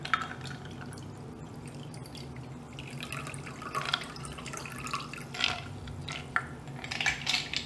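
Ice-cold club soda pours and trickles into a cup nearby, with light fizzing drips and faint clinks of glassware, no talking.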